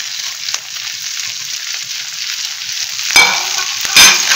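Bell peppers stir-fried with chicken over a high flame for a pineapple chicken dish, a steady loud sizzle throughout, with sharper scraping stirs of a spatula near the end.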